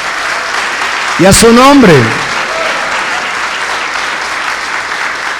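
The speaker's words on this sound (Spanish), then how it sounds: "denle un aplauso fuerte" A church congregation applauds loudly during a Spanish-language sermon, a dense, sustained wash of clapping that continues throughout, while a preacher's voice speaks briefly over it near the start.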